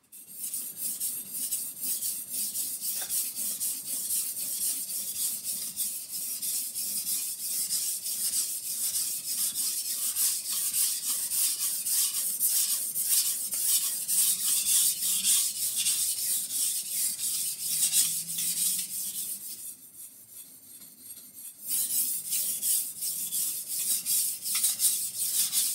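A blade is sharpened on a water stone, working through 400, 1,000 and 5,000 grit with burr-forming pressure: a steady, continuous close rasping scrape that runs for a long stretch, with a short quieter pause near the end before it resumes.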